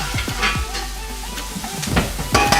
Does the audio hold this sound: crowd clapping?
no